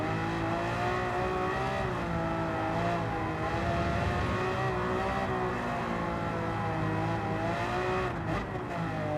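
Race car engines roar steadily in the Gran Turismo 7 video game, a dense sustained drone of engine note with gear shifts and slight pitch rises and dips, loud and continuous with no voices.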